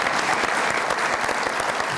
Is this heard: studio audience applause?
yes